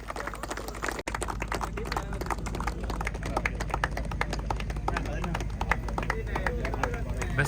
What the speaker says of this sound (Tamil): உற்சாக கரகோஷம் இருக்காங்க